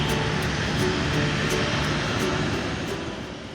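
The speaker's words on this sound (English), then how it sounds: "our plane arrived, and it was once again the 737-800" A Nauru Airlines Boeing 737-800 arriving produces a loud, steady broadband jet roar close by, gradually easing toward the end.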